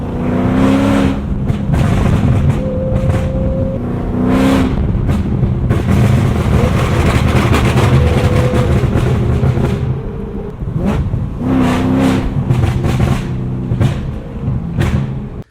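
A supercharged Mercedes E55 AMG with a straight-piped exhaust revs hard, a loud, raspy engine roar that climbs and falls in repeated blips with a sustained drone in the middle, close by and without talk.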